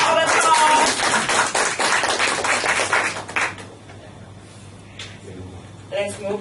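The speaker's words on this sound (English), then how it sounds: "Give him a big round of applause." A meeting audience claps in a dense burst of applause that lasts about three seconds and then thins out, with a few scattered claps and some talk afterward.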